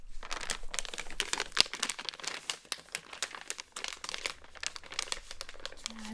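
Office paper being crumpled and crinkled up close in a quiet room, a steady run of dense, crisp crackles and rustles with no voice.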